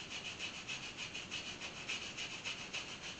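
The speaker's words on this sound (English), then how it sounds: "Now we'll go back and brush it to get all the stuff that we couldn't get to with the scraper." A bare cast iron part on a 1981 Chevy C10 being scrubbed clean of gunk with a brush, quick back-and-forth rasping strokes in a steady rhythm, close and fairly quiet with no talk.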